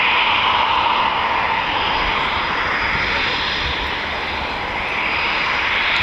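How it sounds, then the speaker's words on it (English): Eurofighter Typhoon FGR4 jet engines roar loud and close at RAF Coningsby, a broad continuous rumble and hiss that swells and eases slightly. "We've got another 2 Typhoons."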